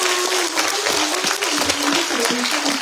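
Warm applause from the guests at a Taiwanese-language policy forum, a steady wash of clapping across the whole stretch, with a voice speaking faintly underneath.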